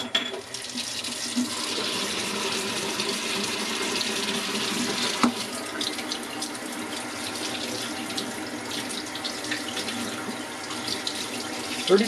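Water runs steadily from a kitchen tap for a final rinse of developing film, a continuous close hiss with a brief knock midway and no talk.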